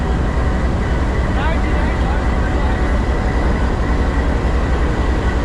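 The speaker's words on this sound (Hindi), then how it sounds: "35 मिनट डिले होने के बाद अपना डिपार्चर रजिस्टर कर लिया 102 डाउन सुबह रफ्तार रेल कार ने" The 102 Down Subah Raftar railcar pulls away from Gujrat railway station with a loud, steady diesel rumble and rolling wheel noise, heavy and close throughout, mixed with faint background voices.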